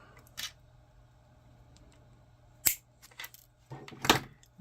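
A pin on a plastic model kit being cut: a few sharp, close snips and clicks spread through an otherwise quiet stretch, the loudest coming near the end.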